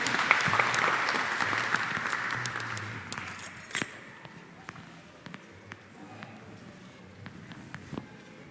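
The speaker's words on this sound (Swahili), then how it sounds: "Apigieni makofi." A church congregation at a Kikuyu-language service claps hands together in a loud burst that fades after a few seconds, leaving scattered light claps and room noise.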